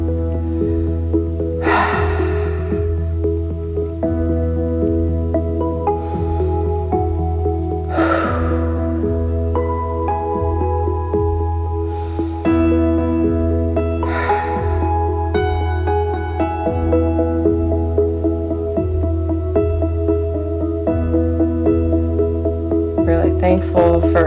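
Heavy breathing after a yoga sequence: a few deep, audible breaths at spaced intervals rise over steady background music that plays throughout.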